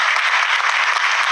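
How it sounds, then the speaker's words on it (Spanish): A studio audience at a 1995 television program applauds in a steady, dense, uniform roar of clapping that holds at an even level throughout, with no voices above it. "para quien pido un aplauso"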